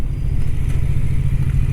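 Low, throbbing exhaust note of a BMW F450GS motorcycle, a steady close rumble with slight surges in pitch, running on its own without talk.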